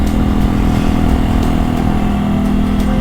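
A motorcycle engine runs steadily up close, a loud continuous low rumble with a rough throbbing texture and no voices over it.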